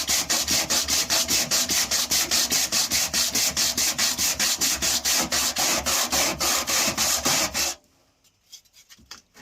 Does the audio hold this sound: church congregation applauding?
no